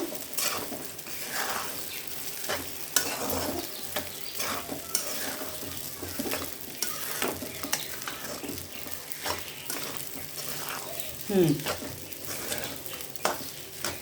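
Sabudana khichdi being stirred in a pan, a steady sizzle of frying under repeated scraping and clinking strokes of a spoon against the pan, close and continuous with no talk.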